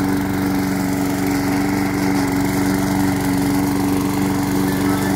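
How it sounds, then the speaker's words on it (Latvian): A petrol lawn mower engine runs steadily and loudly up close, a constant droning roar with no pauses. "man ir benzīna zāles pļāvējs"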